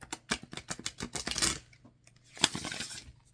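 Standard size deck of playing cards being shuffled by hand: a rapid run of crisp riffling flutters, a short pause, then a second burst of riffling and a bridge, close and fairly loud with no talking.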